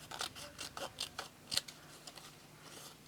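Scissors trimming paper card during handmade card-making, giving a quick series of crisp close snips and rustles, with a louder cut near the middle.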